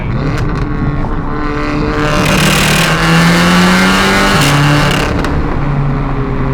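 Loud, continuous engine roar of a tuned 375 kW Stage 3 Audi TT with rolling anti-lag, rising revs and rough, crackling pops throughout, close up and without voices.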